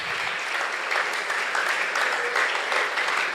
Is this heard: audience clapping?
yes